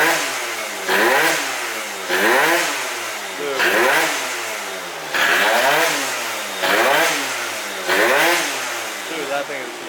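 A Phantom F12 scooter fitted with a Stage6 Overrange kit revs hard in repeated bursts, about five rising and falling engine sweeps in quick succession, loud and close.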